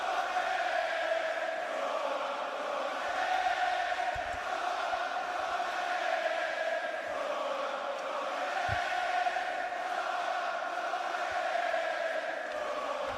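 A packed WWE Raw arena crowd roars in a steady, continuous wash of cheering that holds at a constant level for the whole stretch, with no talk over it.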